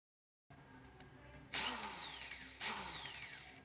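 A power drill whirs up twice in close succession, boring holes into marked PVC pipe for a homemade laptop stand, each run a loud, bright whine that slowly drops in pitch.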